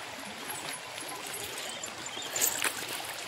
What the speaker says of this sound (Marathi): तिथं फास्ट पाणी होतं, इथं थोडासा प्रवाह कमी आहे, फास्ट जरी असलं तरी.